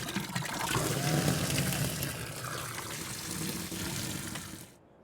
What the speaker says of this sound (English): Let's top up this water one last time.